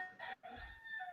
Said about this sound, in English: So I can hear the roosters already, Raphael